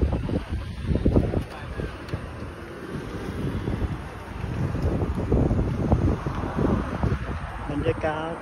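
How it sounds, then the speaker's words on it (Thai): A cool wind gusts and buffets across the microphone at a restaurant in Japan, a rough, rushing roar that swells and fades, with muffled voices underneath. "บรรยากาศที่ร้านลมเย็นๆเข้าไปเลย"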